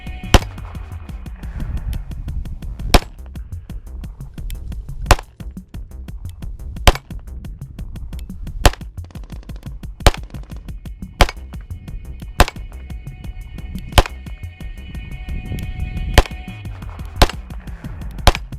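Sharp, loud pistol shots from an FN 509 CC Edge XL with a compensator fired at a range, about fourteen single cracks spaced roughly a second or two apart, with no talking.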